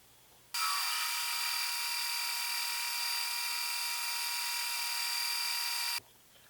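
A drill cuts into a metal part turning on a Clausing lathe, a steady high-pitched whine that starts abruptly, holds evenly for about five seconds and stops sharply.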